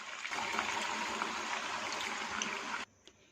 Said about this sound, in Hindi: सो इसी कप से पानी इसमें शामिल करेंगे।